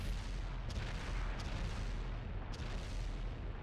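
Tank cannon fire and battle rumble from a World of Tanks match, a loud continuous low roar with a few sharp blasts standing out, no voices.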